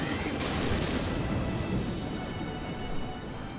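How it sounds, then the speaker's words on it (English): A self-destructing enemy explodes in Final Fantasy 14, a loud, sustained rumbling blast that roars steadily through the whole span without talk. "And he blew himself up."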